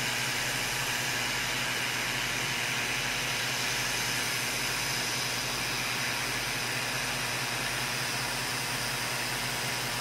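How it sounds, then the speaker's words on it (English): Air assist on a Creality CR Laser Falcon 10W laser cutter blows a steady, loud, even hiss of air with a low hum beneath it, unbroken and without talk. "You can hear the air blowing on there too."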